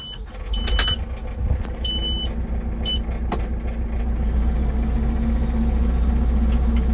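An Antonio Carraro Mach 4 tractor sits with its engine idling in a low, steady rumble after several short electronic beeps at the start, and nobody speaks.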